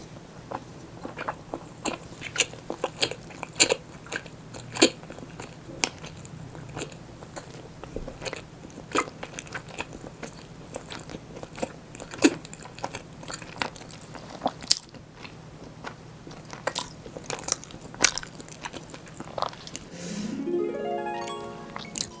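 Biting and chewing a dense, moist vegan tofu cake made with coconut oil and black sesame, soft irregular crunches and sticky mouth sounds close to the mic, ending with a brief rising scrape.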